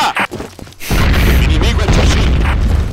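A grenade explodes in a first-person shooter video game with a loud, sustained booming blast that follows brief clattering noises, with voices heard around it.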